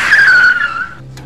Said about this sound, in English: Stop the car!